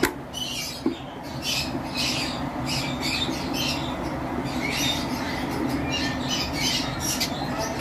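A pair of pale fallow lovebirds in an aviary give repeated sharp squawks and chirps, a busy, continuous chatter at close range with no voices.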